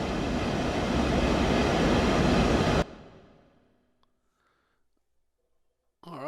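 A Southeastern high-speed train in Train Sim World, London to Ashford and Faversham, roars loud and broadband for nearly three seconds, then cuts off abruptly and fades into near silence before a brief new sound starts at the end.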